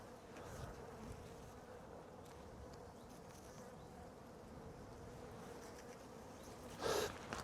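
Honey bees buzz steadily around a hive in April swarm season, a faint continuous drone with a brief louder burst near the end and no talking.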